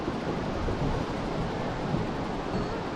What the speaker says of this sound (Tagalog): Kasi malakas yung alon eh.